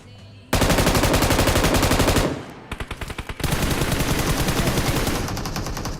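Rapid automatic gunfire in a video game, long sustained bursts of machine-gun shots with a brief gap of spaced single shots in between, loud and harsh with no talking.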